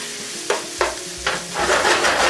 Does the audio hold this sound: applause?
no